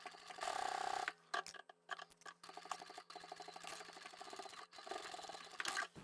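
A sewing machine triple stitches a seam through layered fabric for a tissue holder, whirring in quiet rhythmic bursts of rapid needle ticks broken by brief pauses and clicks.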